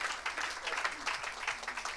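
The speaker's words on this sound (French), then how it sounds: "Oh, acclamez pour la grâce." A church congregation at a Sunday service applauds, a dense, even wash of many hands clapping at once, filling the room throughout.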